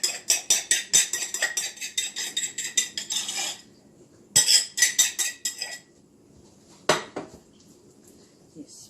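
A knife spreads softened butter over rolled cinnamon roll dough, with rapid rhythmic scraping and clinking strokes in two bursts, then a few isolated taps, close and fairly crisp.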